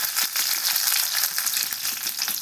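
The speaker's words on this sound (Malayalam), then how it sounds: "1 അല്ലി കറിവേപ്പില ഇട്ട് കൊടുക്കുന്നുണ്ട്." Curry leaves and cut dried red chillies sizzle in hot oil after mustard seeds have popped, a steady, close crackling fry with brief spits, no voices.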